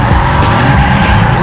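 Mazda RX-7 drifting at a club drift day, loud engine roar with continuous tire squeal as the car slides past close by.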